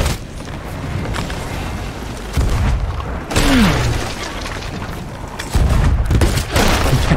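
Ship cannon fire in Sea of Thieves: repeated heavy booms and blasts over a churning background of sea and game noise, loud and close.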